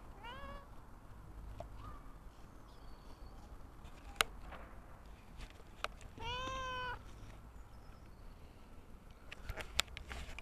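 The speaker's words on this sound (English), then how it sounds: "That's our other cat. That's the third one." A household cat meows in a few short, clear calls at moderate distance, with one brighter, longer meow midway, over a quiet indoor background with faint shuffling.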